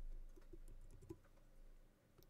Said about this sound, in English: I just type B on my keyboard and pull it up.